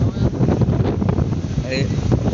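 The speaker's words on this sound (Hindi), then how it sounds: "हवा चल रहा है" Wind buffets the microphone in steady, rumbling gusts while riding a launch boat across a wide river near the sea mouth on the way to Ganga Sagar, with faint water and engine wash underneath and no clear talk.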